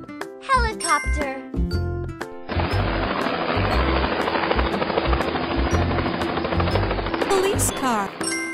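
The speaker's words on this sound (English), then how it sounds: "Helicopter." A helicopter sound effect in a children's lesson on vehicle names: a short jingle and a voice, then a steady, loud rotor roar for about six seconds.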